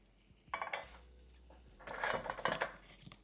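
Chopsticks flipping a tamagoyaki rolled omelette in a tamagoyaki pan, light scraping and clattering against the metal in two short bursts, close and fairly quiet.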